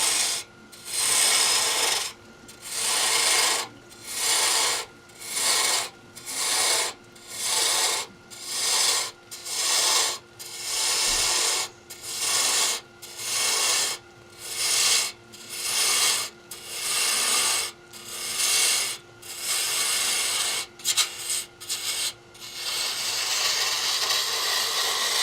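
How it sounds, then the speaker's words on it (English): A bowl gouge cuts cypress wood turning on a lathe for a hollow form, making a loud, steady rasping scrape in regular pulses about once a second, with a brief pause near the end. No one speaks. "I will actually go back to my bowl gouge."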